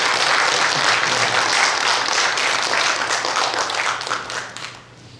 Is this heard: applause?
yes